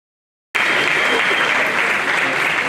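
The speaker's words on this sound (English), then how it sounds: "Please give them a round of applause." A large crowd at a university matriculation ceremony at UNIBEN bursts into loud, sustained applause after a short silence, a dense, even roar of clapping with no voices on top.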